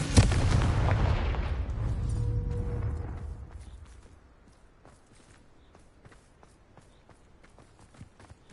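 A Confringo fire spell from Hogwarts Legacy bursts into a loud, rumbling explosion at the start, then rolls on for about three seconds before dying away to faint scattered crackles and ticks.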